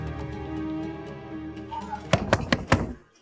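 A door is knocked on in a dramatized police visit, four or five sharp, loud, close thuds in quick succession that follow a sustained tonal background and end abruptly.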